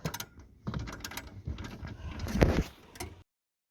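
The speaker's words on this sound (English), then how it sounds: "Just a socket and a ratchet. And he'll tighten them up properly." Socket and ratchet tightening the bolts of a swivel seat base in a Citroen Berlingo camper, giving a run of close, dry metallic clicks and short clunks in uneven bursts, with one louder knock near the end.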